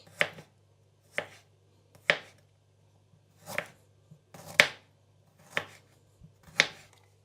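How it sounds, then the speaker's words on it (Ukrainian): Seven sharp knife chops through fresh ginger on a cutting board, spaced about a second apart, close and distinct over a low steady hum. "Нарізаю імбир на шматочки."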